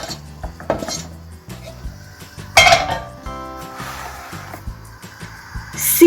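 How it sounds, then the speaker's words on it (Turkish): Cooked pasta being drained in a kitchen, with metal pot and colander clanks, scraping and a gush of water near the end, loud and close with no speech. "Makarnamız pişti arkadaşlar. Şimdi onu şöyle süzüyorum."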